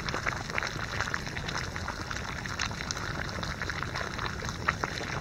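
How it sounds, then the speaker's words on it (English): Water at a vigorous rolling boil bubbles and crackles steadily, a dense, hissing churn that continues without pause. "That's a gigantic rolling boil."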